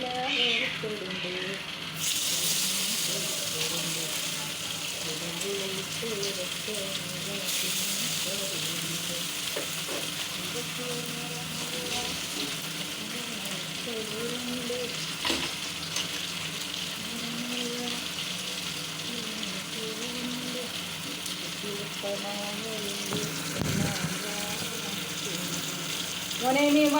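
Oil sizzles in a pan while ingredients fry for a fish curry, a low steady hiss with occasional stirring clatter, and someone talks faintly in the background.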